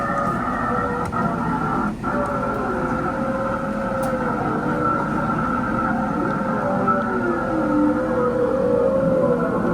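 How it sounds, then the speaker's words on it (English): Whale song picked up underwater through a hydrophone on a whale-watching cruise: long, wavering tonal calls that slide up and down, several overlapping, over a constant low hum from the water and boat, with no talking. "you can hear the whales singing under the water"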